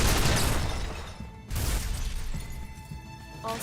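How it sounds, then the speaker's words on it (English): Cannon fire in the video game Xenosaga Episode 3 lands as loud, close blasts and shattering crashes, with a heavy burst at the start and another impact partway through over busy game noise. "Let's use cannon."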